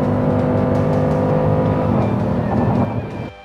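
Dodge Durango SRT with a Hemi V8, its engine revving loud and close with a deep, sustained growl that tails off sharply near the end.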